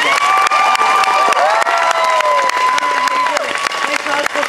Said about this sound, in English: I think they deserve yet another round of applause.